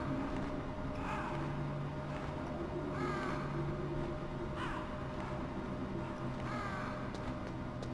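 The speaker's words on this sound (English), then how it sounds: "Look at these bloody crows, man." Crows caw in the Metal Gear Solid game world, four separate raspy calls spaced a couple of seconds apart over a steady low ambient hum.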